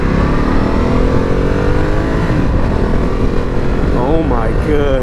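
A 2019 Ducati Multistrada 1260 Pikes Peak Edition motorcycle engine runs loud and close, its rough growl holding steady before sweeping up and down in sharp revs toward the end.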